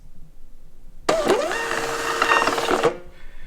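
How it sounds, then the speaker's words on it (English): A FreeX SuperRoll wifi thermal printer runs off a 4x6 shipping label with a steady mechanical whir and buzz that lasts nearly two seconds. It starts and stops abruptly and sounds close, with quiet surroundings before and after. "So I'm gonna go ahead and click that print button and then see if it prints."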